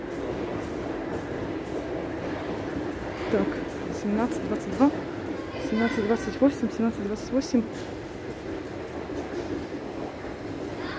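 Milan metro train moving through a station, a steady rumble with a rising whine and squeal in the middle, while a person speaks briefly nearby.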